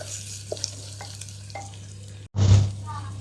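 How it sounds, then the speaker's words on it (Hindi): Onions frying in a pan for a handi egg curry: a low, steady sizzle with a few soft stirring clicks, a brief drop to silence, then a louder burst of scraping and sizzling near the end. "प्याज को भी अच्छी तरीके से कर लेते हैं फ्राई"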